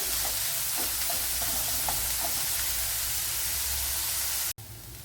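Sliced cucumber sautéing for pachadi in a pan, a steady dense sizzle with faint stirring clicks, ending with a short break and a softer hiss.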